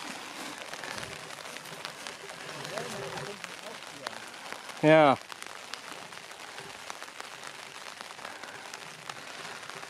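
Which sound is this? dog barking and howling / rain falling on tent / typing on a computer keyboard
rain falling on tent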